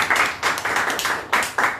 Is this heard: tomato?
no